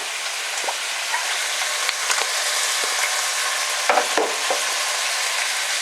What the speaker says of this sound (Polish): Patelnię podlewam olejem.